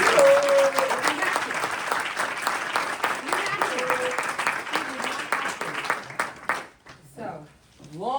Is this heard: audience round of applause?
yes